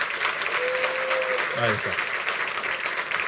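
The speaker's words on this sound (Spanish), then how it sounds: "Yo creo que se merece un aplauso mucho más grande" Audience applause after a conference talk on the first session of a Saturday, a steady dense clapping wash throughout the stretch, with someone speaking briefly over it.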